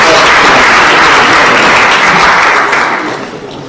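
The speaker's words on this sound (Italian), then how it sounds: "fategli un bel applauso." Loud, dense applause from a theatre audience welcoming guests, a sustained roar of many hands close by that tapers off in the final second.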